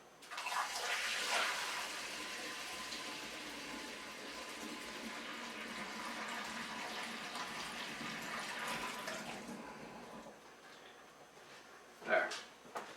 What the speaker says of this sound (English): I'm basically just going to pour this water into the carboy